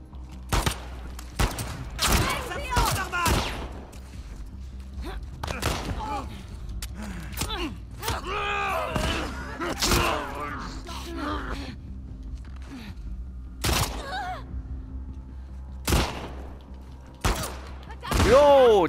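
Gunshots from the video game The Last of Us 2, a handful of sharp separate cracks spread through the clip with gasps and groans in between, heard amid a subway tunnel fight.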